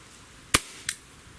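Two sharp, snappy shots from a Glock 17 Gen5 air pistol firing a 7-grain pellet, the first louder and a second fainter crack following about a third of a second later, with quiet between.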